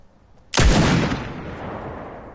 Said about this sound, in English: I definitely like the sound of the scoped revolver a lot more.